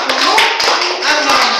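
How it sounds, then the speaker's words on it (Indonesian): Classroom clapping as students applaud themselves after a lesson, a dense, loud patter of many hands with some voices mixed in. "Tepuk tangan untuk kita hari ini."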